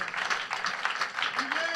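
Applause in a church service, a brief burst of rhythmic clapping from the congregation, fairly close and continuous.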